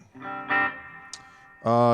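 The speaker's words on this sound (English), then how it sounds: "Is this the amp reverb? Yes, it is, Richard." Electric guitar through a Koch amp with its built-in amp reverb plays a few sustained, distorted notes and chords with a reverb tail, fairly close and clear.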